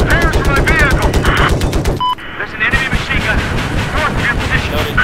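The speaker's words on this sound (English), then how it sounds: "There's an enemy machine gun." An enemy machine gun fires in Battlefield 4, a rapid stream of loud shots that runs under and between players talking over voice chat in the middle of a vehicle fight.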